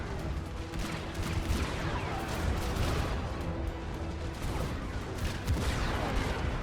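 Massed units trading fire in the real-time strategy game Sanctuary Shattered Sun, a dense continuous barrage of overlapping gunshots and explosive thuds, loud and sustained throughout.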